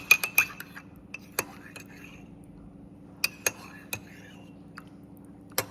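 A spoon stirs milk into coffee in a cup, giving a string of bright, separate clinks against the sides. The strikes come in quick bunches with short pauses between them, over a quiet background.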